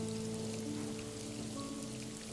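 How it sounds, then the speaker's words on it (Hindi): Steady rain falls as an even, continuous patter throughout. No voices are heard, with a faint low hum underneath. "सीमा और सुहानी न जाने कितनी देर तक अपने हाथ खोले बारिश में खड़े रहे।"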